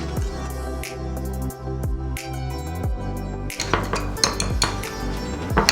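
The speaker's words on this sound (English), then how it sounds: "So first we're gonna mix everything together in yogurt" A spoon clinks and scrapes against a bowl while chaat masala and other spices are mixed into yogurt to make a sauce. The taps are close and irregular at first, then turn into busier, louder stirring.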